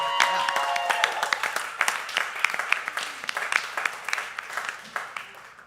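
Audience at a local live music show in a small venue claps warmly, with distinct individual claps popping through the steady applause, which gradually thins and fades toward the end.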